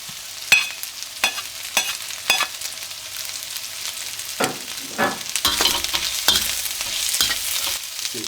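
Vegetables stir-frying in a pan for yakisoba: a close, crackling sizzle cut by sharp clacks and scrapes of a utensil tossing the food, with bursts of louder frying partway through.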